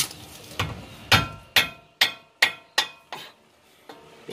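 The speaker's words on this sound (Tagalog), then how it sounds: "gamitin nyo na rubber mallet" A rubber mallet strikes a car suspension part during a bushing and ball joint replacement, about nine sharp, close blows at a steady rhythm, each ringing briefly before the next.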